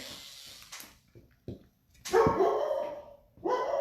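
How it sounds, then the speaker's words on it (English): Pet dog barking in a home during a craft session, several sharp barks and yips at irregular intervals, with a longer loud burst of barking near the middle and another toward the end. "Sorry about my dog, he just barks all the time."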